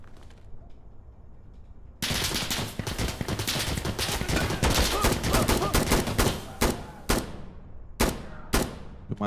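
Intense bursts of rapid gunfire in the shooter game Insurgency Sandstorm, starting abruptly after a quiet moment and continuing as loud sustained volleys before breaking into a few separate sharp shots.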